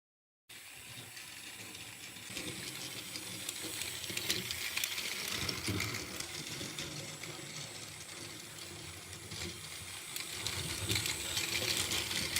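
Small plastic-geared toy locomotive from a cheap Christmas train set running on its track, a steady faint whirring and ratcheting mechanism with light clicks, no voices.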